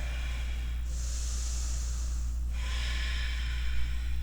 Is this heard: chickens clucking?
no